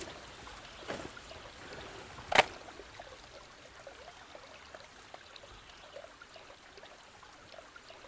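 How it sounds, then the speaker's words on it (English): A small brook trickling steadily through Pecket Well Clough, a soft continuous flow with a couple of brief sharper splashes or knocks near the start. "This here, this little brook, river, whatever you want to call it, is actually a clough."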